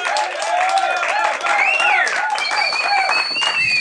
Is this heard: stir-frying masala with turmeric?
no